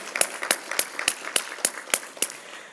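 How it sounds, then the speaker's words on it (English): Sparse, rhythmic hand clapping, about nine evenly spaced claps, fairly close and moderately loud with a faint murmur underneath. "give yourselves a round of applause"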